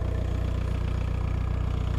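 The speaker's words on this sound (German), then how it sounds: "Noch hört er sich ja an wie ein Auto, aber lass alle mal Gas geben" A car engine with a seized, stuck turbo runs steadily at idle, a continuous low rumble with an even mechanical pulse, close and alone with no voices.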